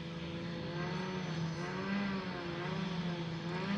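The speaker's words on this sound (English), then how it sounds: "This car sounds amazing." A Nissan S15 engine revving steadily at a drift event, a throaty droning roar holding pitch with slight rises, no voices.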